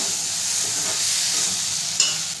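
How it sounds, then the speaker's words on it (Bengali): Fried potatoes stirred into ghugni masala in a pan give a close, continuous sizzle, with a steady stirring scrape and one sharper clack near the end. "আলুটা দিয়েও খুব ভালো করে মিশিয়ে নেব।"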